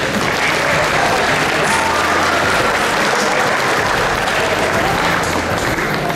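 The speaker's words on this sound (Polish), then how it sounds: "także wielkie brawa dla nich" A crowd at a knights' club tenth-anniversary event at Rydzyna Castle applauds the youngest trainees, children of four to five, with loud, dense, sustained clapping throughout.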